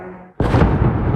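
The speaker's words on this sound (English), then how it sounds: "Then the explosion echoes through the dark in Ukraine's eastern city of Kharkiv." A heavy, sudden explosion from a Russian drone attack on Kharkiv bursts in after a quieter moment at night, then rolls on as a loud, sustained rumbling echo.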